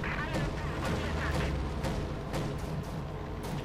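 Continuous artillery barrage in Company of Heroes 2, a carpet bombardment of a front line, with dense rumbling booms and repeated sharp blasts layered over each other throughout.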